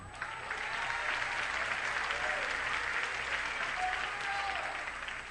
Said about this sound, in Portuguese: Se é para Jesus, aplauda mais forte.